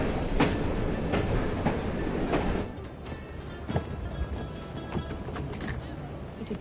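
A steam-era train runs in Assassin's Creed Syndicate, a steady rumbling clatter of wheels on rails with rhythmic clicks that softens slightly partway through and carries on throughout.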